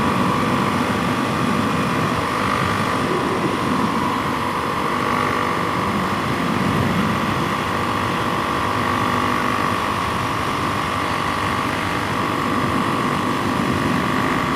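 A Suzuki DR-Z E model dirt bike with a stroker big bore, wide-ratio gears and an aftermarket exhaust drones steadily while riding, a continuous loud engine and exhaust hum mixed with wind rush.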